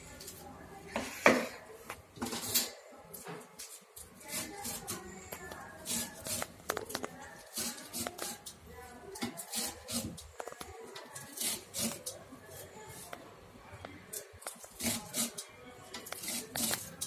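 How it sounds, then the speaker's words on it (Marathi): Spinach being finely chopped with a knife on a board, a quick run of soft, steady tapping strokes close by, fairly quiet, with brief pauses and a little talk. "हा पालक आता असा घेऊन बारीक चिरून घ्यायचा।"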